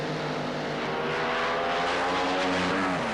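Drag racing cars roar down the strip at the 1976 NHRA Gatornationals, a loud, sustained engine blast with steady high-revving harmonics and no voices over it.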